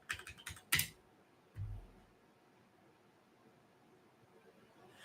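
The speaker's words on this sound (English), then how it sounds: "Let's type in Cobenfy sexual dysfunction." A short burst of typing on a computer keyboard, rapid clicking keys for about a second, then a single dull thump and near silence, with no talking.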